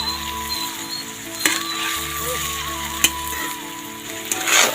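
Bitter gourd frying in a pan, a steady crackling sizzle with scraping spoon stirs and a few sharp clicks, close by, alongside faint background tones and no talk.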